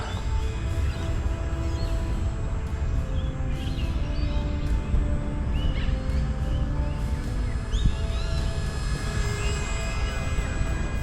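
Radio-controlled scale model plane styled after the Canberra bomber flying outdoors at half throttle, a steady engine drone with whining tones running continuously, with a skylark chirping nearby over it.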